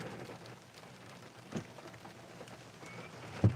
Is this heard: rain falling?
yes